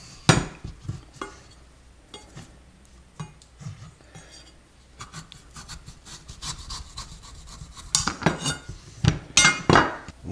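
A knife shaves a small piece off an acorn squash so it sits flat, giving sharp clinks and scraping cuts on a board, sparse at first and then a busier cluster of clattering strokes near the end.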